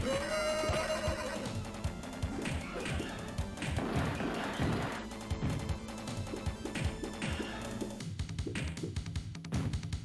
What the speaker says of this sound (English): that's supposed to sound like a horse whinnying, but it sounds more like a train whistle